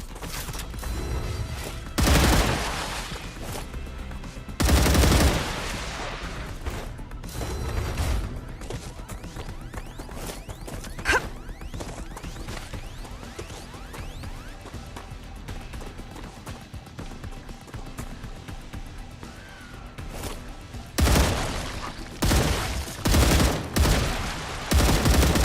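Weighty guns fire in the sci-fi video game StarRupture, with bursts of loud shots in clusters separated by quieter stretches and a sharp ping in the middle.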